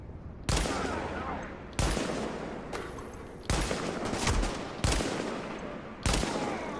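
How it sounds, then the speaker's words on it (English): Gunfire in the video game Tom Clancy's The Division comes in five loud, sharp bursts spaced about a second apart, each trailing off into a reverberant tail, with quieter game ambience between them. "So that little red marker means someone's heard the shots and wants to get involved. Let's have a little shoot."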